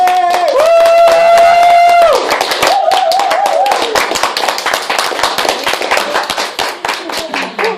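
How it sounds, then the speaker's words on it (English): An audience at a business club live event claps for a guest speaker. Sharp, close handclaps start under a sustained musical tone and then continue on their own as an uneven burst of applause. "I think we should give a big round of applause to Mindy Gibbins-KLEIN!"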